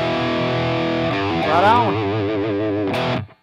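A 2005 Rickenbacker 620 electric guitar in Montezuma Brown rings out through distortion, with a sustained chord that swells into wavering, vibrato-laden notes before cutting off. It plays loud and close, and a voice speaks briefly.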